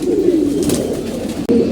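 Soft, low cooing of feeding pigeons repeats in a steady murmur, close by, with a brief pause near the end before the cooing resumes.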